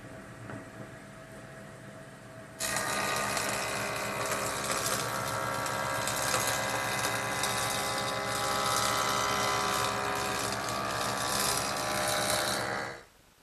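A saw blade cuts a wooden board for a drop leaf table, starting abruptly with a loud, steady whine that holds for about ten seconds and then stops.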